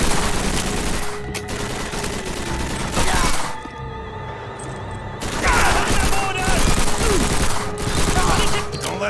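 Machine gun fire from a mounted MG in Call of Duty: World at War, during a battle mission at Braunau am Inn, rattles in dense continuous bursts amid explosions and battlefield noise, with a short lull partway through.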